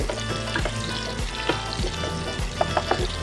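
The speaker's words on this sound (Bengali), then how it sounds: "এরপর কালো জিরেটা পুড়ে একটু কালো হয়ে এলে দিয়ে দেবো একটা কুচিয়ে রাখা পেঁয়াজ। পেঁয়াজটা ভালো করে ভেজে নেব।" Chopped onion fries with black cumin in a hot pan for a potato and okra curry, a loud, steady sizzle with repeated scraping stirs throughout, close by and with no talking.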